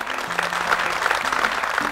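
An audience at a TVC Retail business owners' event claps in a brief, steady burst, with faint sustained musical tones underneath.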